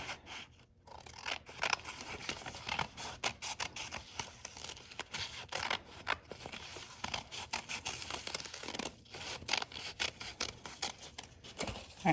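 Scissors cutting out a folded paper handprint, a steady close run of snipping and scraping paper sounds with small pauses between cuts, no voices.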